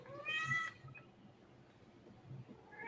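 A house cat meows once, a clear drawn-out call near the microphone, followed by quiet room noise with faint low rumble.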